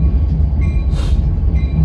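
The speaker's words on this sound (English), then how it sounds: "There's a train going by." A train rolls past close by, a loud steady rumble of wheels on rails with a brief brighter hiss in the middle and faint squealing tones.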